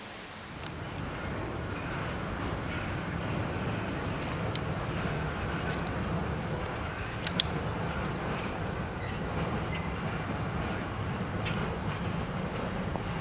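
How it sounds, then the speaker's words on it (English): The 118-year-old Greenbrier Express steam train reverses slowly around a wye near a rural depot after uncoupling from its passenger cars, giving a continuous low rumble with faint clanks and a brief louder knock partway through, heard from a distance. "This is the Greenbrier Express using the Y after they've detached from the passenger cars at the Durbin Depot."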